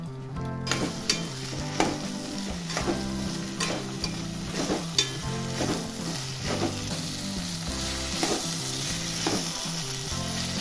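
Brinjal and potato pieces sauté in hot oil for a traditional Maharashtrian Bhogi mixed vegetable dish, giving a steady close sizzle with repeated stirring clatter and a tonal background layer throughout.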